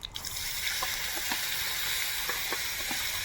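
Radhuni and whole cumin seeds sizzling in hot oil as a tempering for a katla fish and green bean curry, a continuous close hiss with a few soft pops scattered through it.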